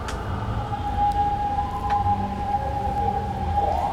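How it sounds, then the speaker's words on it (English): A siren wails through the whole stretch as one steady, drawn-out tone, moderately loud over a constant background rumble, with no talking. "there was like a siren noise now"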